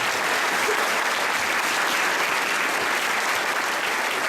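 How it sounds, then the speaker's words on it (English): Dense, even applause from an audience at a school band and chorus winter concert, a loud continuous wash of many hands clapping without a break. "So another round of applause for these guys."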